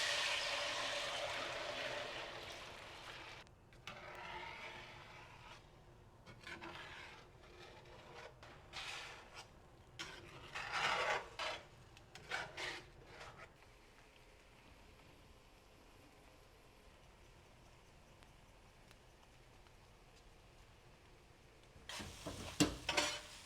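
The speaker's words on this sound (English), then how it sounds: "scramble up these eggs on the stovetop" Eggs scrambled in a pan on a stovetop: soft sizzling with intermittent scraping and stirring of a utensil against the pan, quiet and close, easing off midway before a final clatter.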